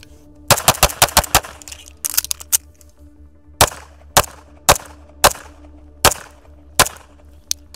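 An Atlas Apollo pistol fires at 3 yards: a rapid string of six sharp cracks, a pause for the reload with faint clicks, then evenly spaced pairs of shots, loud and close outdoors.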